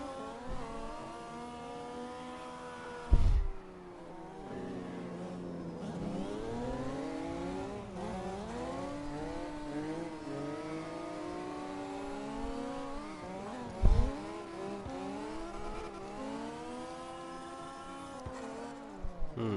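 Honda NSX, American version, revving and shifting in the CarX Drift Racing video game, its engine note rising and falling in sweeping harmonic glides, with two sharp thumps or impacts standing out.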